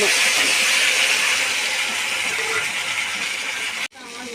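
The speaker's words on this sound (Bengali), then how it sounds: "দেখো বাটাটা আমি ঢেলে দেবো" Ground yardlong bean paste with turmeric poured into a hot pan, giving a loud, steady close hiss and sizzle that fades slightly before a brief cut near the end.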